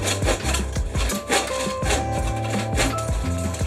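A saw cuts through tough wood on a drill press workbench, giving a rough, rasping scrape in repeated strokes with short pauses, close and fairly loud.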